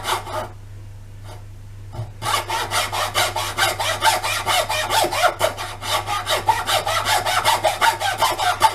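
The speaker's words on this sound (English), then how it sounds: "preferably a sharp hacksaw," A sharp hacksaw cuts through scrap wood with rapid, even rasping strokes, near and loud, after a short quiet pause and a few tentative scrapes at the start.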